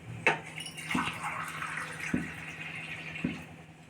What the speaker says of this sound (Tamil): இது 3 அளவுக்கு தண்ணி விட்டுருக்கேன் இதில்